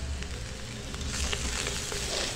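Garlic and bay leaves sizzling in an electric pressure cooker with bacon, a steady close frying hiss that runs on without pause and no voices.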